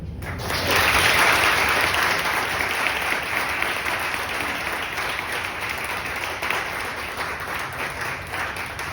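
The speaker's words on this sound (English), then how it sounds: "Can we do one more round of applause for that?" Steady, loud applause from a lecture audience, rising quickly and holding a dense wash of clapping for several seconds before easing slightly, with no talk over it.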